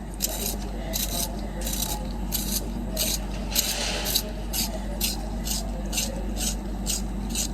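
Graphite pencil turned in a handheld sharpener, giving a steady rasping scrape with about a dozen regular bright strokes over a low background hum, close and moderately loud.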